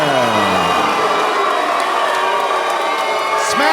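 A large crowd cheers and whoops loudly at a bare knuckle fight in Denver, a dense sustained roar throughout, close and full.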